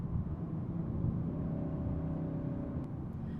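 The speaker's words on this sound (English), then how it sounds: "It just sounds like engine working very hard, where I don't expect to hear it." A Kia K5 sedan engine works hard climbing hills, giving a steady, low droning hum from inside the cabin, moderately quiet and continuous with no talking.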